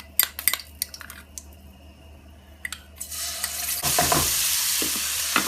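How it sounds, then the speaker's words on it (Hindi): Ginger, garlic and green chili paste dropped into hot oil in a pan, starting with a few clinks of a spoon, then a loud steady sizzle that bursts up and keeps hissing close by. "तेल गर्म हो जाएगा तो हम इसमें डाल देंगे अदरक लहसन और हरी मिर्च का पेस्ट।"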